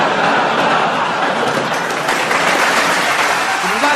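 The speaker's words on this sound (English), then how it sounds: "warm applause, please, for our scorer" Studio audience applause on a British TV panel show, a dense, steady roar of clapping hands that holds loud and even throughout without breaks.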